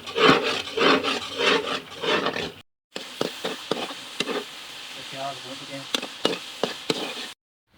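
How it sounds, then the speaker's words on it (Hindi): Spiced fish is dropped into hot oil at an outdoor riverside cook by the River Ravi; a voice talks at first, then a steady sizzle runs with scattered crackles and pops. "तो शिदार भाई वो मछली डाल रहे हैं"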